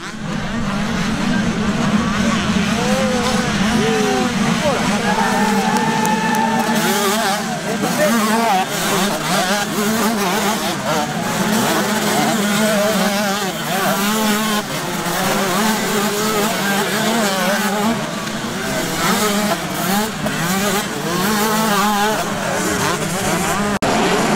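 Motocross motorcycles, 125 class, race at full throttle on the Pont d'Ouilly track, a continuous loud dense engine roar with rising and falling revs across the whole stretch, a voice speaking over it.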